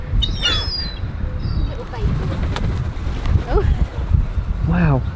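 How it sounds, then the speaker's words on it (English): Seagulls squawk and cry repeatedly nearby over wind and rushing water in Dover, while people talk. "Seagull planet. It's like Island of the Seagulls."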